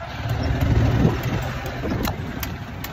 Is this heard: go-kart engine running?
yes